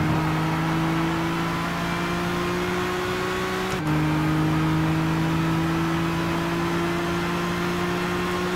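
A race car engine in Gran Turismo 6, heard from the cockpit during a qualifying lap: a steady, loud droning hum that holds one pitch, dips sharply once around a gear shift, then holds steady again. No voices.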